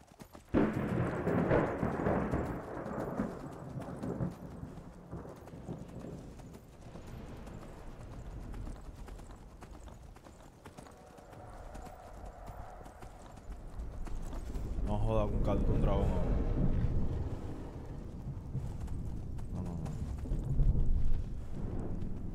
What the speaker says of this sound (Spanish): Caballito.